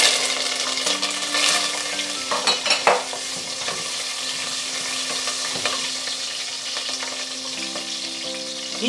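Whole spices, star anise, fennel, green chillies and curry leaves splutter in hot oil, giving a dense continuous sizzle with a burst of louder crackling and stirring clatter early on.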